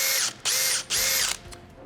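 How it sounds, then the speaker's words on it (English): Power drill pre-drilling screw holes in a door frame: three loud, high-pitched whirring bursts of the motor spinning up and stopping, with a brief fainter buzz at the end. "Pre-drilling before each screw is very important."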